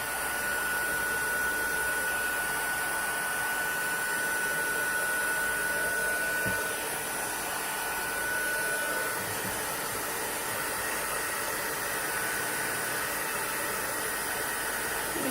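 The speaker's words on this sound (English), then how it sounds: "take one of our Stampin' Up heat guns, and that's going to set the color and dry your ribbon" A Stampin' Up heat gun blows steadily over inked ribbon on a silicone mat, a constant close whooshing drone that runs unbroken for about fifteen seconds, dipping slightly in level partway through.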